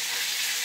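Pork crépinettes browning in a frying pan give a steady, close hiss of sizzling fat that holds evenly, with no voices.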